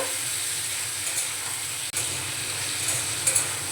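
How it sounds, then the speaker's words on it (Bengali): Sliced tomatoes and garlic cloves stirred in a hot pan over a low-to-medium gas flame, giving a steady soft sizzle with light scraping, close and continuous, with one brief dropout midway. "আর এখানে কয়েকটা রসুনের কোয়া নিয়েছি, এগুলো আমি দিয়ে দেব। ভালো করে নাড়াচাড়া করে নেব।"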